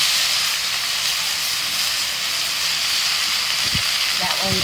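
Chuck roast searing on a Blackstone griddle gives a steady, loud hiss and sizzle throughout, with a few brief low knocks and tones near the end.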